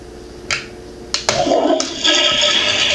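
A toy toilet flushes during a toilet-themed board game, giving a few sharp clicks of the handle and then a loud, sustained whooshing rush of water that runs to the end, close up with no talking.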